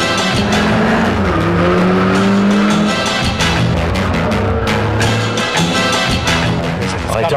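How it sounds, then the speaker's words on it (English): A three-wheeled tilting Carver car driving fast, its engine loud and close throughout, revving up and down in rising and falling pitch sweeps, with road and wind noise. "No, it's a 3-wheeled car, Conor."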